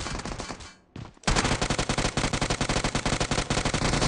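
Gunfire in the video game PUBG Mobile: a burst of shots, a short break, then sustained loud rapid automatic fire in a fast steady rhythm.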